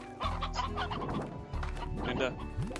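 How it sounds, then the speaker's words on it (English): A chicken clucks in the video game Slime Rancher, with busy, repeated clucks running through the whole stretch alongside other game sounds. "Excuse me, chicken."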